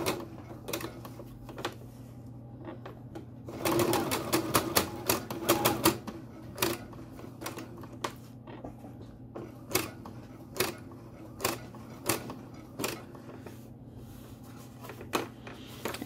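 Sewing machine stitching a tight curved seam in small pivoting bursts, with a steady low motor hum throughout, a denser run of rapid stitching early on, then short separate clicks and stops as the fabric is turned.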